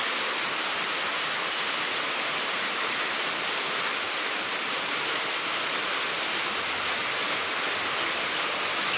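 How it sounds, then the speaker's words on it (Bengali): Heavy rain pours down in a steady, dense, unbroken hiss that stays loud and even throughout, with no voices over it. "দেখো কত বৃষ্টি হচ্ছে, সেই জোরে জোরে বৃষ্টি হচ্ছে।"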